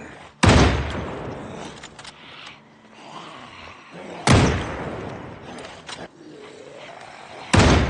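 A .223 varmint rifle in the zombie survival game Project Zomboid fires three loud, sharp shots spaced several seconds apart, each trailing into an echoing decay over quieter game ambience.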